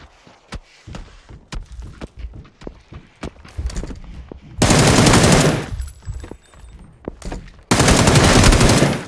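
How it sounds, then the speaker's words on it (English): Gunfire in the video game PUBG, starting as scattered sharp single shots and quick bursts, then giving way to two long, dense, loud bursts of automatic fire that fill the foreground. "He's getting shot."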